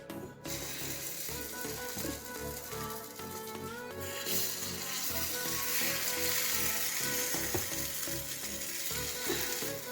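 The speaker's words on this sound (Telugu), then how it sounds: "పొంగనాల పిండి ఈ విధంగా కలుపుకొని ఒక్కొక్క గుంటలో పోసేసుకుందాం" Paniyaram (ponganalu) batter sizzles and fries steadily in the wells of a hot paniyaram pan, a dense continuous crackle that grows slightly louder partway through, with faint clinks and no talking.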